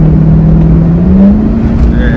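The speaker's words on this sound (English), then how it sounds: "It's literally just revving up." A 2002 Camaro Z28 with a failing transmission revs high without shifting gears, a loud steady engine drone that climbs slightly in pitch, with a voice speaking over it.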